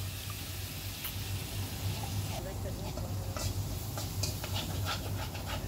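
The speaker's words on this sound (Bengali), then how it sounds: "ভালো করে আমি চিকেনটা আবারও নেড়ে চেড়ে মিশিয়ে নিচ্ছি" Chicken sizzling in a pan with ground pepper and a little soy sauce, stirred and scraped with a spatula, a continuous close frying hiss with scattered clatters of the utensil and no one speaking.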